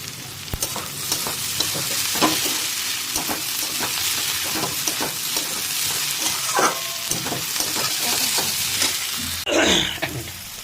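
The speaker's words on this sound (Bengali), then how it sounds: "পেঁয়াজটা আর একটু ভাজা ভাজা হবে" Onions fry in oil in a pan for potato bharta with a continuous close crackling sizzle, broken by irregular stirring clicks and a brief louder scrape near the end. No one speaks.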